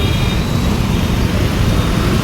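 Road traffic rumbles past at close range, a loud continuous roadway drone of vehicles with no talking.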